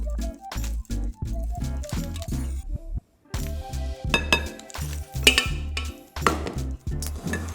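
Hot semolina mixture for galaktoboureko is scraped from a pot into a bowl, with a rapid series of sharp metallic clinks and knocks from the utensil, broken by a brief pause before the clattering resumes.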